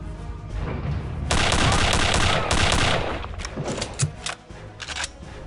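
Gunfire in the Return to Castle Wolfenstein shooter game: loud bursts of rapid automatic fire, with sharp shots trailing off into scattered single reports toward the end, and no talk.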